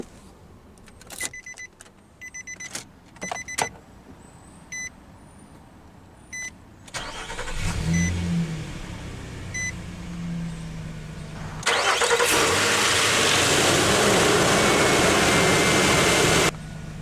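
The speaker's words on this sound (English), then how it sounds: "let's go ahead and start the engine" A 2017 Nissan Frontier SV Crew Cab 4X4 pickup: a few clicks and door-chime beeps, then the starter cranks, the engine catches with a rev flare and settles to idle, followed by a louder, steadier whooshing blower that runs on to the end.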